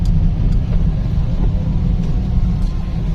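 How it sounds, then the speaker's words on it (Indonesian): A bus bound for Probolinggo and Surabaya passes on a narrow, congested road near a market, its steady low engine rumble close and loud throughout, with no talking. "Ini bis arah Probolinggo Surabaya"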